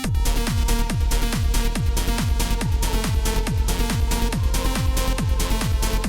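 A driving electronic trance remake with a steady four-on-the-floor kick pulsing beneath layered synth chords, played continuously without any voices.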